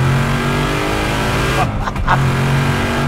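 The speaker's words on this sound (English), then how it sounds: "you can still really hear that whipple whining hard" A Ford Mustang fitted with a Whipple supercharger accelerates hard on track, a loud engine roar with a steady high supercharger whine, briefly dipping near the middle as the throttle lifts and then pulling again.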